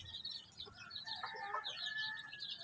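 Brahma cross native chickens cluck softly in a backyard, with faint scattered fowl calls at a distance and no talking.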